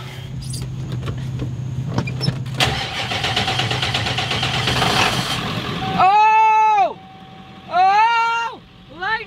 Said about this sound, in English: we'll come back and we'll see if this car starts